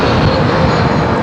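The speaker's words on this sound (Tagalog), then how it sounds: "Laki na aeroplano." A large airplane flies low overhead near a busy road, producing a loud, continuous, broadband roar that fills the short moment.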